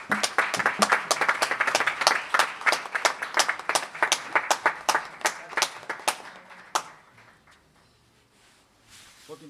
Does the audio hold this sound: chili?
no